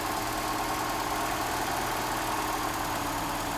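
A Mercedes-Benz W123 230E engine idles steadily after its mixture screw is adjusted, a continuous close rumble with no pauses.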